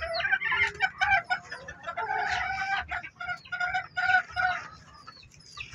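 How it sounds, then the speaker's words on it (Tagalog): Native bantam chickens cluck and chatter close by while a rooster crows through the flock, a dense, continuous mix of overlapping calls with no talk. "Yun ang cute namin manok, bantam."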